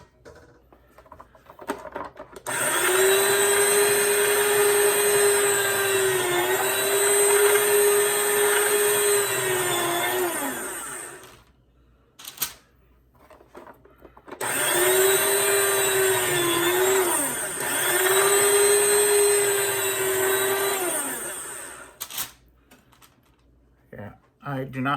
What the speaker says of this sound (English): It's a cheap slicer that I purchased at Harbor Freight.